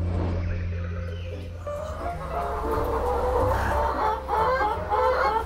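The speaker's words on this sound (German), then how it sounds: "Weiße Hühner, braune Hühner, kleine Hühner, Riesenhühner, falsche Hühner, schwarze Hühner" Chickens, including black Ayam Cemani hens, clucking and murmuring in a zoo enclosure, repeated close calls over a steady low rumble, with no talk.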